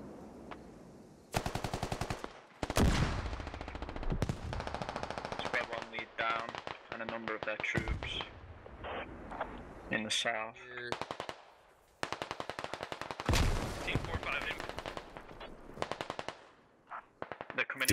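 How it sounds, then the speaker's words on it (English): Squad video game combat: rapid bursts of machine-gun fire and sharp explosions from grenades going off all around, loud and continuous with brief pauses, with a voice talking faintly underneath. "Got nades going off all around them."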